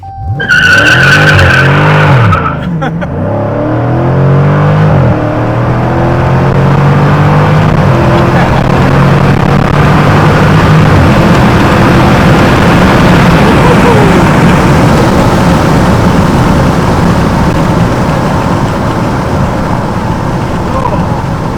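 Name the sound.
Dodge Challenger SRT 392 peeling out in sport mode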